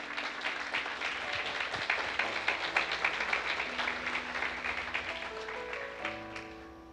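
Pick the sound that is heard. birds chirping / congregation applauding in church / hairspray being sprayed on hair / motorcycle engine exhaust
congregation applauding in church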